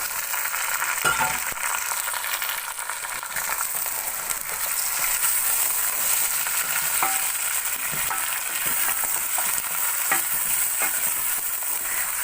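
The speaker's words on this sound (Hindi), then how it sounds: "अब इसी लहसुन के साथ मैं बीफ को भी भून लूंगी।" Steady, loud sizzling of beef frying with garlic in a hot pan for nihari, with occasional scrapes of stirring and no talking.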